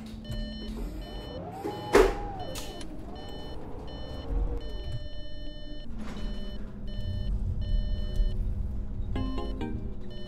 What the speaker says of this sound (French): quelqu'un peut m'expliquer comment changer le bruit des clignotants de ce bus?